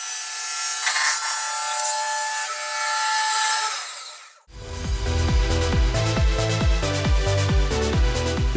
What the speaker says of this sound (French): Cette scie est incroyablement puissante.